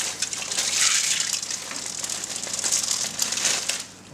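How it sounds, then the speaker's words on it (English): Fish stock poured into a paella pan, then peas sprinkled in: a steady close liquid gush with crinkly splashing and pattering throughout, no talk. "Sprinkle in the peas."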